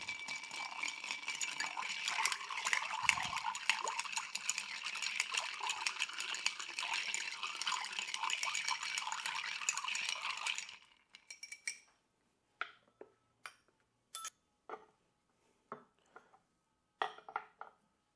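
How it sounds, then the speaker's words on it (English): Ice and liquid in a glass being stirred to mix and chill a yuzu Midori sour, a dense continuous clinking swirl for about ten seconds, then a few separate sharp clinks and taps alone. "Give this a good stir."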